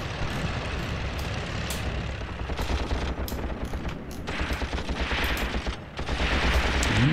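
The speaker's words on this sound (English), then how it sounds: "If that's a lone machine gunner." Sustained bursts of machine gun fire in the World War II tank game Tank Warfare: Tunisia 1943, rattling loud and dense over a rumbling engine background, with brief gaps between volleys.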